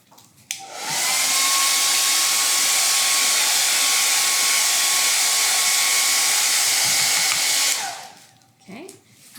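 A hair dryer switches on and blows steadily for about seven seconds to dry stenciled paint on a small wooden nativity shelter, a loud close whooshing roar with a faint whine, then clicks off.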